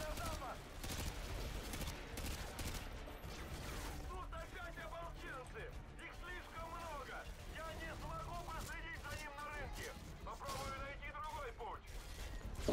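Gunfire rattles through a Call of Duty: Modern Warfare 2 match in quick bursts and scattered shots, mostly distant and moderate, with voices chattering over it.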